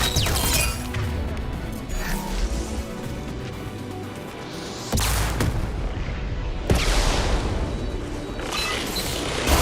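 Gunfire and artillery fire in a video game battle, dense, loud and continuous, with heavy booms and sharp cracks, including sudden impacts around the middle and near the end.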